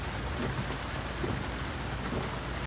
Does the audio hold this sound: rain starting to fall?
yes